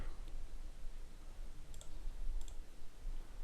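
Faint keyboard and mouse clicks while editing an image in Photoshop, a few sparse, light taps over a quiet background hiss.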